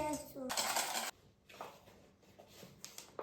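A whisk clatters and scrapes against a bowl while egg and flour are beaten together during breakfast cooking outdoors in the mountains, with a loud burst of rapid metallic clinking followed by quieter, scattered taps.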